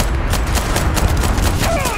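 Gunfire in the Starfield video game, a rapid fusillade of loud shots in quick succession over a busy game soundscape.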